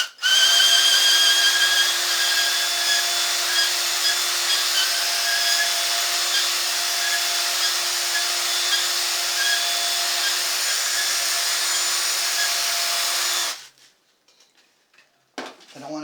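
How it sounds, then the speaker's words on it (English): A power drill spins a strip of 120 grit sandpaper held in its chuck against a wooden dowel, a loud, steady high whine with a gritty sanding hiss that runs continuously for about thirteen seconds, then stops abruptly and leaves a few faint clicks. "I'm using some 120 grit sandpaper in my chuck"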